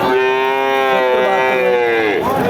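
A single long moo from a Pakistani-breed cow at a cattle market, loud and close, drawn out with a steady tone before falling away at the end.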